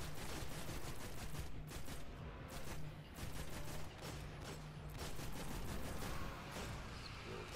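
Dense, continuous gunfire in Destiny's Crota's End raid as a fireteam guns down swarming thralls, a busy wash of rapid shots and impacts filling the whole stretch with a faint steady tone underneath.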